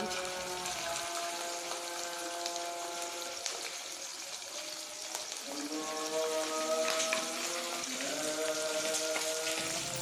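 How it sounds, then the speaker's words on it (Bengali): Rain patters steadily outdoors, a continuous soft hiss of drops with faint tonal hums layered underneath throughout. "আবার খুব জোরে বৃষ্টি শুরু হয়েছে"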